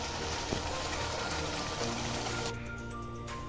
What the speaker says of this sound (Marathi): आता यामध्ये आपण पाणी थोडं ॲड करणार आहोत.